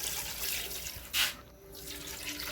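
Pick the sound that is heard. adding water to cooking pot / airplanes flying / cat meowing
adding water to cooking pot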